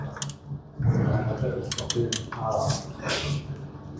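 A ratchet clicks in short bursts while tightening the transmission drain plug on a Nissan Navara D40, close and crisp with metallic ratcheting and light clanks.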